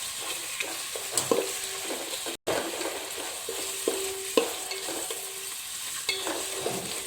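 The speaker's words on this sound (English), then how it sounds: "Just stir properly, my dear friends, to get it in a golden brown." A pan of ingredients for egg biryani sizzles steadily while a spoon scrapes through it in repeated stirring strokes, close by, with one abrupt brief dropout partway through and no voices.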